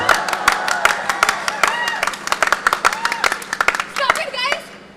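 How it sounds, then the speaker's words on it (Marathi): Sharp, scattered hand claps from a small group at a stage show, bursts of clapping mixed with children's voices and chatter that fade out at the end. "टाळ्या."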